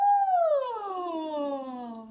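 A voice imitates a morning yawn: a single drawn-out vocal sigh that starts high and slides steadily down in pitch, clear and fairly quiet, with no other sound around it.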